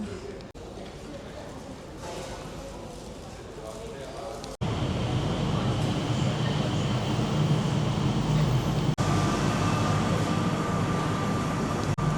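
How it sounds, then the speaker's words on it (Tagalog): Skytrain pulling into the airport station bound for Jewel Changi: a steady rumbling rail drone that swells louder midway and holds, with station murmur and people talking over it. "Then mag-a-arrive na yung Skytrain nila dito, going to Jewel."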